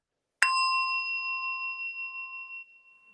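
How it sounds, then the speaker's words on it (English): A single tap on a metal singing bowl, followed by a clear, pure ringing tone with steady overtones that slowly fades over a few seconds. "I've got one of these kind of Buddhist bowls, and if you tap it,"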